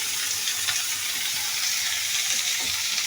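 Bitter gourd curry sizzles steadily in a frying pan while being stirred, a loud continuous hiss with occasional soft scrapes of the spoon.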